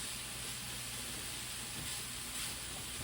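Ground meat for spaghetti sauce fries in a pan while being stirred, giving a steady, even sizzling hiss with no pauses throughout.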